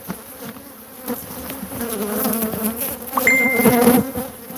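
Killer bees swarm around a huge hive, a dense, steady buzzing that fills the scene close by and swells louder toward the end, with a brief high tone near the finish.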